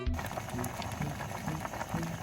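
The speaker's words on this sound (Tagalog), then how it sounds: "kumukulo na rin itong ating niluluto" A steady bubbling and simmering of mangrove snails (susong pusikit) cooking in a pot, a soft continuous churn with faint clicks, heard up close without talk.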